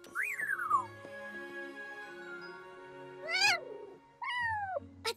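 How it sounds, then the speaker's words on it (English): A Tuca kitten in the Young Jedi Adventures cartoon gives three high, sliding, whistly meows separated by short pauses, clear and close over a quiet background. "A Tuca kitten!"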